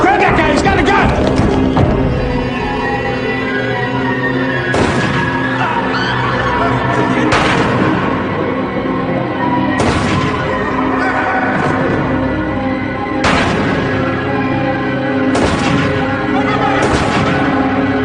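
Gunshots ring out in a police drama scene, a series of loud, sharp bangs spaced every couple of seconds over a dense, noisy background, with voices talking among them.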